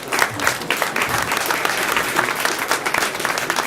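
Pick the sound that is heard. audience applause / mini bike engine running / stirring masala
audience applause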